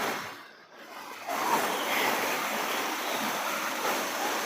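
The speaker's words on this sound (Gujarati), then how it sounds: "સુંદર ધોધ આવી રહ્યો છે ઉપરથી" At Sukva lake waterfall near Kantrodi, Jesar, Bhavnagar, water pours down with a steady broad roar that swells after a brief dip and then holds loud and even.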